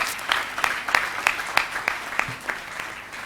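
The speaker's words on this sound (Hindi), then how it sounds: "तो सभी एमओसीज के लिए एक बार राउंड ऑफ अप्लॉज होना चाहिए।" Conference audience giving a round of applause, a steady wash of many hands clapping with a fairly regular pulse of sharper claps, moderately loud and with no voices over it.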